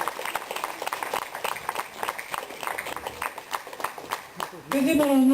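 Applause at an aviation photography award ceremony, a crowd clapping steadily for several seconds before a voice cuts in at the end.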